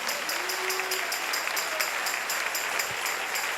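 Congregation applauding in a church during a sermon, a steady dense wash of many hands clapping throughout, with a faint tone and brief low thump underneath.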